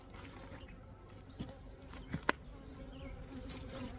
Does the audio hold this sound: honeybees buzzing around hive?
yes